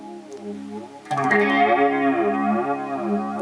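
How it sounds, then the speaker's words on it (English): A guitar through a Moogerfooger MF-108M Cluster Flux analog delay set to a longer delay time, a darkened, echoing delay trailing each note, the repeats smearing into a thick, chorus-like wash once the effect kicks in. "if we increase this, you tend to get a lower or darker sound because you're increasing the delay time"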